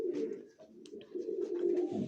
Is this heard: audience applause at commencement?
no